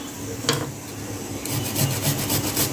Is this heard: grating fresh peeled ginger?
yes